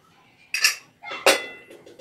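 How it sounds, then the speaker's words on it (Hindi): Two sharp metallic clanks of a pressure cooker lid being worked open, each followed by a brief ringing rattle, close by with no talking. "अब ये प्रेशर कुकर का ढक्कन खोलेंगे"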